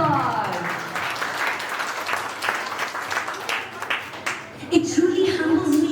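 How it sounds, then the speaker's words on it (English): Audience applause at a summer workshop recital and awards event, loud dense clapping from a crowd lasting several seconds, with voices talking over it and a musical tone rising near the end. "Let's give him a round of applause."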